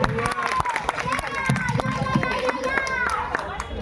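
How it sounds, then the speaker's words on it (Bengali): An audience claps loudly for a girl reciting a poem at a Saraswati Puja community gathering, with dense, rapid applause from a crowd close by, mixed with chatter. "প্রাতর্ষীর জন্য একটা জোরে হাততালি সবাই"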